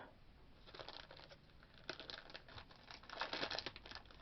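A sealed, non-resealable plastic package of clay is pulled and torn open, giving close, quiet crinkling and tearing that builds toward the end.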